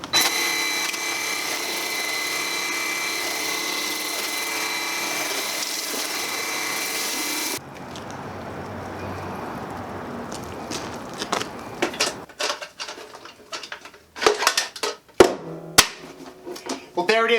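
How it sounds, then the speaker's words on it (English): A DeWALT 20V MAX 550 PSI cordless power cleaner runs on its low setting, giving a steady mid-loud motor and pump whine for about seven seconds before it stops. Scattered handling knocks and clicks follow. "Solid unit by DeWALT. Power washer, 550 PSI, 1 gallon per minute."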